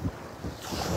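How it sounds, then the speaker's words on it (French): Strong wind buffets the microphone on a sunny Algerian beach, a loud, gusty roar with surf washing behind it, steady with rising bursts and no talk. "Il y a du vent de folie."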